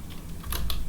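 A few quick keystrokes on a computer keyboard, two or three close taps in under a second over faint room hum.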